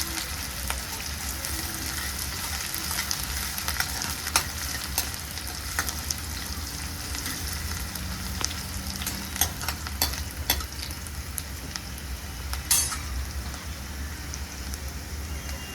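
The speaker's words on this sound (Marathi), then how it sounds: "मी इथे बारीक चिरलेला एक मोठा कांदा घेतलेला आहे. तो चांगला आपण परतून घेऊया." Finely chopped onion sautéing in a pan, a dense continuous crackling sizzle like light rain, with scattered sharp pops and occasional stirring scrapes throughout.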